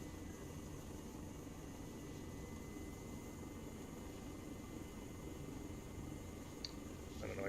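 Aircraft engine in the video game ArmA III, a steady, loud, broadband roar that holds unchanged for the whole stretch with no clear rise or fade.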